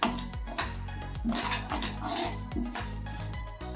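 Coriander seeds being stirred while dry-roasting in a pan, a close, repeated scraping and rattling of a spoon against metal in uneven strokes, with no talk.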